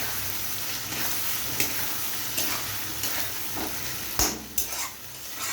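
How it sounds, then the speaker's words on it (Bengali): Duck eggs being sautéed in a thick curry masala make a soft, continuous sizzle broken by the scrape and clink of a spoon against the pan, heard close with no talking. "এবার ডিম দিয়ে কষিয়ে নেব"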